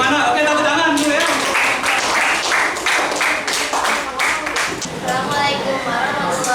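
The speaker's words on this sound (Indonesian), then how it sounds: "Oke, tepuk tangan dulu ya." Students in a classroom clap together in a loud, brief burst of applause with overlapping voices and chatter, then the noise settles into murmuring.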